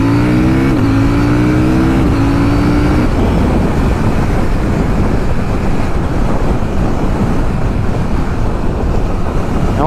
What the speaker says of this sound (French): quand on ouvre les gaz en grand avec cette machine ou avec ce LC8, on a la banane